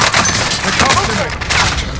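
Call of Duty Warzone gunfire on Rebirth Island, a loud, dense fusillade of overlapping shots and thuds, with in-game voice callouts heard alongside.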